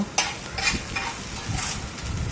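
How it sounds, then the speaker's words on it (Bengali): Refined oil poured into a hot pan while making chow mein, giving a quiet, uneven sizzle with a few sharper hissing bursts over about two seconds. "এটা আপনার রিফাইন তেল ঢেলে দিল"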